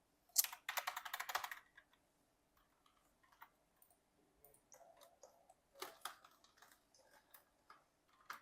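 A laptop keyboard clatters in a quick burst of typing, then scattered faint key taps and clicks follow at a distance in a quiet room.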